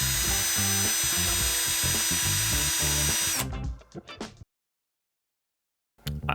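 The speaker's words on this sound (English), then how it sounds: "I was ready to clean up the holes with a conical sander" A conical sander on a power tool cleans up holes in a homemade Nerf blaster, whirring loudly and steadily for a few seconds, then spinning down into silence before a brief burst of handling noise.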